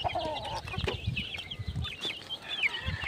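Farmyard chicken sounds with newly hatched chicks and a hen: short clucks and high peeping calls scattered over a few seconds, close by and fairly clear.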